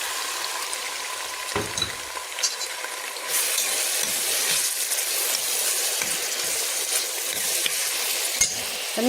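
Onions sizzle and fry in a pan of oil and ghee, a steady close crackle that grows louder after the onions drop in, with occasional stirring scrapes and no talking.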